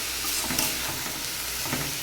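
Turmeric paste and a bay leaf sizzle and spit in hot oil while being stirred for a vegetarian banana flower curry, a steady close frying hiss with small stirring bumps and no voices.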